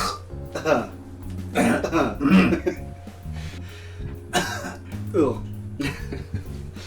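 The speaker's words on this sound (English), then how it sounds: "I'll just cough on that, see how you liked it." Several harsh coughs and throat-clearing bursts come in irregular clusters, close by, over a low background hum.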